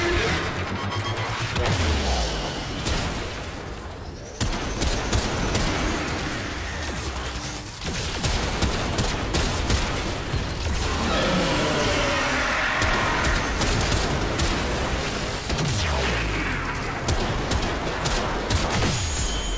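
Weapon fire in the Warframe video game during a solo Eidolon hunt with a Lanka build, loud heavy shots and impacts repeating in bursts across a dense, continuous game soundscape.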